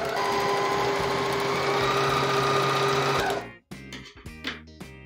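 An overlock serger sewing machine runs steadily at speed for about three seconds as it stitches a seam, then stops, followed by a few lighter mechanical clicks and handling sounds.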